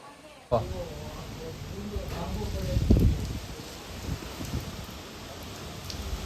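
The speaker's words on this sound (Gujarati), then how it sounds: "આમ જો પવન આવે" Strong storm wind blowing through a mango tree, a continuous rushing roar with leafy rustling that swells into a stronger gust midway, with voices faintly present.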